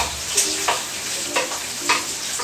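White onions sauté in a pan with a soft continuous sizzle, broken by several rhythmic stirring scrapes about every half second.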